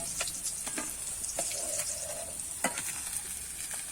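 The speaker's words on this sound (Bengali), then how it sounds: "লাল লাল করে ভেজে নিয়েছি আমি মাছগুলো" Pieces of rohu fish frying in oil, producing a dense steady sizzle with occasional clicks of a utensil turning or lifting the fish.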